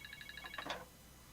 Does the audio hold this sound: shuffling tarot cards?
no